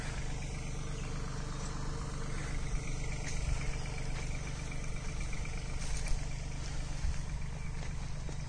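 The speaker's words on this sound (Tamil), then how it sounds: "Mini tractor." A Farmtrac Atom 26 4WD mini tractor engine running steadily on a turmeric harvest field, a constant low rumbling drone heard from a moderate distance with no talk.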